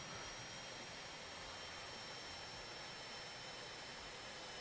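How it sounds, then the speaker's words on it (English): A cargo plane's jet engine in Airport Simulator 14 gives a steady, even roar with a high whine, continuous and unbroken throughout. "that sounds like a cargo plane."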